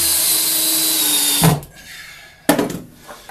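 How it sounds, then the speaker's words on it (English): Power screwdriver with a magnetic tip driving screws into a basement workbench, a steady whine that cuts off, followed by two short bursts of whirring. "Magnetic tip on the screwdriver means that I don't have to hold the screws on."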